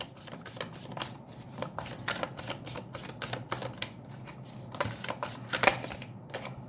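Oracle cards being drawn and shuffled from a deck: a steady run of soft, quick papery flicks and snaps, close and fairly quiet, with no talking.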